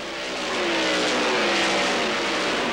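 IndyCars at the 1997 IRL Colorado 200 swell past as they take the green flag, a loud, rising engine scream that builds over the first second and holds as a dense pack, no talk audible.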